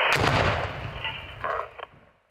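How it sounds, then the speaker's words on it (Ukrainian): A placed explosive charge detonates to destroy a cluster munition, a loud blast rolling out over about two seconds with a second burst before the sound fades. "ми їх знищуємо на місці шляхом накладання вибухівки поруч біля касетного боєприпасу"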